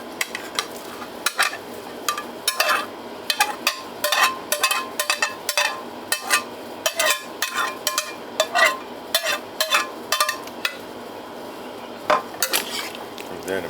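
Shredded BBQ chicken being mixed in a crock pot: a steady run of close, wet scraping and clanking strokes of a utensil against the pot, regular and fairly sharp, with no talking.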